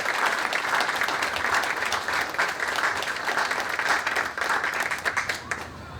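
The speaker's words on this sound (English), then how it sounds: "Please give her a warm round of applause." Warm, steady audience applause at a playground grand opening ceremony, a thick wash of many hands clapping continuously and evenly throughout, without speech.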